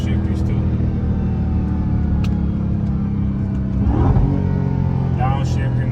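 A widebody Dodge Charger Hellcat downshifting, a loud deep rumbling engine drone from inside the car with a brief rise in revs near the end.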